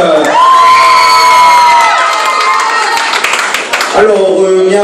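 Crowd at the Miss Prestige Réunion beauty pageant, 2018, erupts in loud screaming cheers and whoops mixed with clapping, sustained for several seconds before fading as an amplified voice begins to speak.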